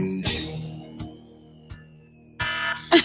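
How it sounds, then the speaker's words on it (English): A wake-up alarm clock sounds with a steady electronic tone and sharp repeated beeps spaced about a second apart, faint and alone, then a louder burst near the end. "Is that seriously the alarm that you use to wake yourself up in the morning?"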